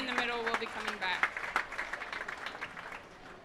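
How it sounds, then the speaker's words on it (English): Applause for the children at a county fair beef show, crowd clapping rising after an announcer's voice and continuing at a modest, steady level under some talk. "Let's give them all a big round of applause."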